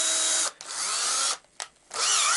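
A homemade 12-volt welder built from a microwave transformer runs in loud, harsh bursts of buzzing hiss. Two brief pauses break the noise, then it starts again, with no talking.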